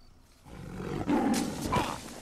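A large tiger lets out a loud, rising roar from a film scene, swelling in the second half over a low rumbling background.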